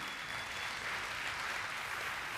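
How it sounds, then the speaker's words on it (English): Church congregation applauding children after an Easter presentation, a steady, even wash of clapping from many people, moderately quiet and continuous with no voices over it. "Let's give them a round of applause."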